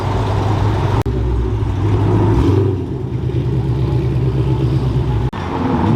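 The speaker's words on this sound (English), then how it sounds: "My man Jack pulling up in his new C6." A Corvette C6 pulling up at a car meet, its engine rumbling steadily near and fairly loud, with a brief dip in the middle and two short breaks, no talk over it.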